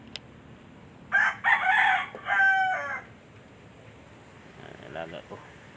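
A pet rooster crows loudly and close by in one long, rising call of about two seconds, with a few soft clucks and faint background noise afterward.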